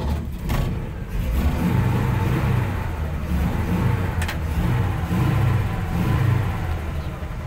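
An old tow truck engine runs rough, giving a loud, continuous low rumble that wavers unevenly, close by and with no talking over it.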